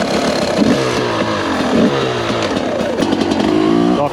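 A 2022 TM EN300Fi fuel-injected dirt bike engine lugging in second gear, loud and close, with a steady rough mid-range drone and rising and falling pitch as the throttle varies.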